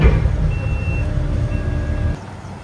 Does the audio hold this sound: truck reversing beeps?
yes